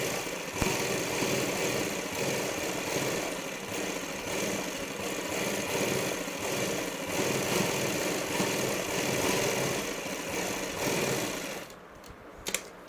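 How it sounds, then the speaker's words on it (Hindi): Close, loud and unbroken, an electric sewing machine runs fast as it stitches decorative cut-work lines on a salwar hem, its needle chattering in a rapid even rhythm for about twelve seconds before stopping. "अब हम इस पे एक पैर की सिलाई लगा देंगे।"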